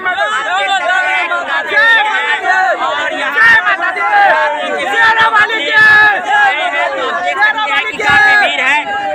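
Dense crowd of devotees gathered for a Durga idol immersion at Singhania Chowk, Madhubani, producing a steady babble of many overlapping voices close by throughout.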